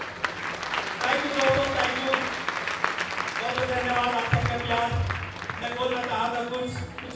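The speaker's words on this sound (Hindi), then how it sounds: "जोरदार तालियां।" Sustained audience applause fills a network marketing gathering in India, with steady clapping and musical tones running beneath it throughout.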